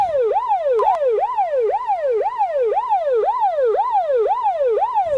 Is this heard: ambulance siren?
yes